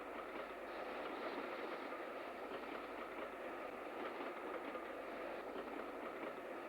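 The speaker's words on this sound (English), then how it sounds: "On the up slow on a Carlisle Leeds train is Britannia 7004 William Shakespeare." A Britannia class steam locomotive, number 7004, hauls a Carlisle–Leeds passenger train on the up slow line, heard as a steady, faint rolling rumble of carriages and wheels on track.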